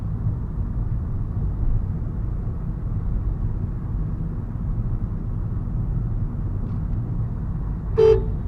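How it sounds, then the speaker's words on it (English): A car horn gives one short, sharp toot near the end, cutting through the steady low rumble of a vehicle interior during a driving test. Nobody talks. "can you show me how the horn works in this vehicle"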